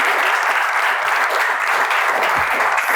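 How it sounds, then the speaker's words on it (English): Loud, close audience applause from a studio crowd, dense and steady for three seconds with no break, with only faint voices under it. "another beautiful round of applause for Miss E."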